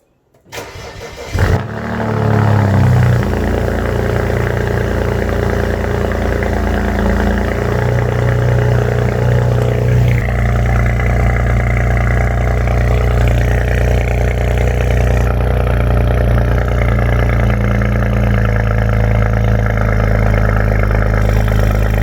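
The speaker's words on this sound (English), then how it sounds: "Let's go test the sound of the two cars" A car engine cranks and starts, then settles into a loud rumbling idle with a few blips of revving, heard close up for around twenty seconds.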